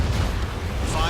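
A missile launching at a bandit in the jet combat video game Ace Combat 7, a loud, continuous roaring whoosh heard up close with no pauses.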